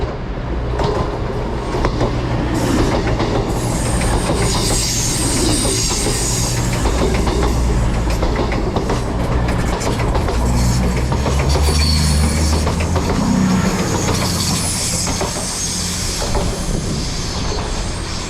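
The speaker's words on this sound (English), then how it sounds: "Passing through is another cross-country service." A cross-country passenger service bound for Bristol Temple Meads rolls through a station, a loud, steady roar of rail noise with clattering wheels and faint squeals lasting throughout, close by and without speech.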